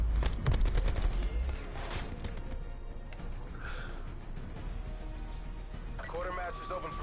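Video game gunfire from Black Ops 4 multiplayer crackles in quick bursts near the start, then thins to scattered distant shots under a player's voice.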